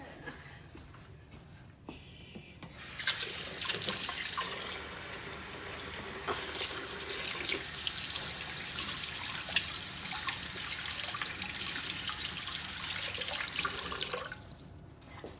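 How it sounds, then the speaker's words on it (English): A kitchen sink faucet runs while hands are washed, a steady hissing stream of water that starts after a couple of seconds, continues evenly, and cuts off near the end. "Okay, so let's go wash our hands."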